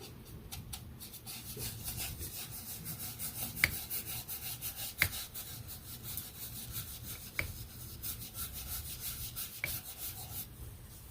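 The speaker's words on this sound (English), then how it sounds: "rub this in with a baby wipe" A baby wipe is rubbed lightly over paint on paper, making a soft, continuous, rhythmic scrubbing rasp with a few faint taps, close and quiet with no speech.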